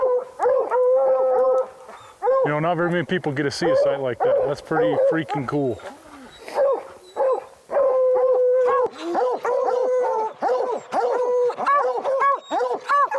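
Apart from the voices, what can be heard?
hunting dogs howling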